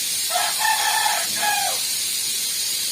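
A chicken in a cage crows or clucks in a short drawn-out call, with two tonal bursts against steady background hiss and no talking.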